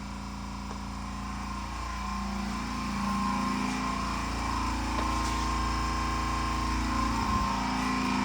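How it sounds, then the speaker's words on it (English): An air compressor runs steadily in a home workshop, a loud, continuous mechanical drone with a low hum that swells slightly partway through and then holds even, close by and with no talking. "the air compressor's running"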